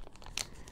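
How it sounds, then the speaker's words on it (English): Adhesive tape pulled off a sheet of paper in one quick, close tearing rip, with quiet crinkling before and after. "pull the tape away"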